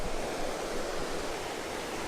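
Steady broadband rush of Numa Creek flowing below a wet backcountry campsite on the Rockwall Trail in Kootenay National Park, a continuous close water roar with no talk.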